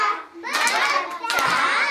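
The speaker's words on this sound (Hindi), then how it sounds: "ताली बजा के" Children clap their hands in a classroom during a language lesson, short close claps mixed with children's voices.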